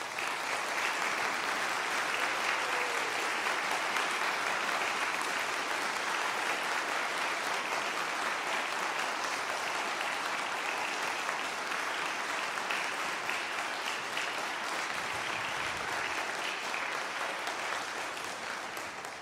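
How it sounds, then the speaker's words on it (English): A church audience at Lebanon First United Methodist gives the U.S. Army Old Guard Fife and Drum Corps a long, sustained round of applause. The clapping is dense and steady, rolling on evenly for many seconds with no speech over it. "Let's give them a round of applause."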